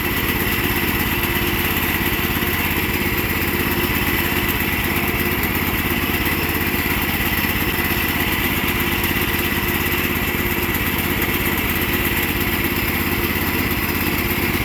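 A small engine idling steadily to warm up, a loud, even, unchanging putter running alone without pause.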